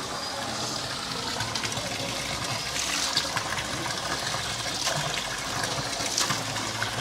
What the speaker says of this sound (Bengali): এটা বাবা আগার জিত্তো এবং মাতাজির চরণের থেকে বেরোচ্ছে জল।